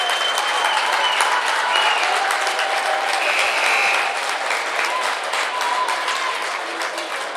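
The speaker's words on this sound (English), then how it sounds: "the Marion fans are cheering the poor sportsmanship" Basketball fans in a school gym clap and cheer, a dense, continuous wash of applause and crowd noise that fades slightly toward the end.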